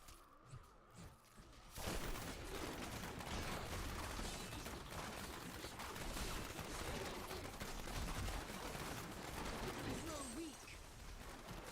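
Mortar fire and gunfire during a video game match, a dense continuous barrage of blasts and rattling shots that fills most of the stretch after a quieter start, with a player's voice talking over it.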